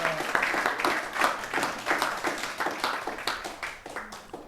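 A church congregation claps and cheers in acclamation of Jesus Christ, steady rapid applause with rising swells throughout, moderately loud and filling the room.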